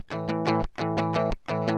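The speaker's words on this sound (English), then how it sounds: "You see this distortion right here?" Distorted electric guitar playing a short repeated riff of thick chords, with three loud sustained strums separated by brief gaps, heavy and saturated, close-up with no talking.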